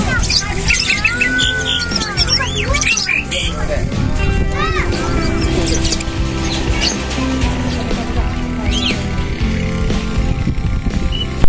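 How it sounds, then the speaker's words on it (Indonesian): Many caged birds chirp and call in an aviary at Sirukam Dairy Farm, a mix of whistles and squawks continuing steadily over a busy background while people talk nearby. "Kamu bisa menikmati warna-warna cantik dan suara-suara indah dari burung ini."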